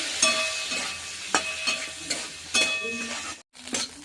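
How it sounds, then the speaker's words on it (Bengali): A fish head fries in a pan with a little turmeric powder and salt, giving a steady sizzle broken by repeated sharp scrapes and clinks of a spatula stirring against the pan, close and with no talking. "খুব ভালো করে ভেজে নেবো মাথাটা"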